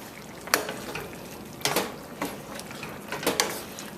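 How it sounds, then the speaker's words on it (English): Seasoned shrimp are stirred into a pot of curry potatoes, with three sharp scraping strokes of a utensil against the pot over a low, steady background hiss. "We're just going to add that directly to the pot and give that a quick stir."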